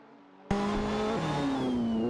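Race cars in an AI racing video game, including a Radical RXV and a McLaren 675 LT, roar steadily after a sudden start, engine pitch rising and shifting through gears in a dense, continuous drone.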